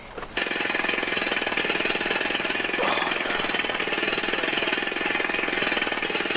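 A jackhammer played at night to fake a construction site, pounding in a loud, steady, continuous rattle that starts abruptly after a brief quiet moment and runs unbroken to the end, with no talking.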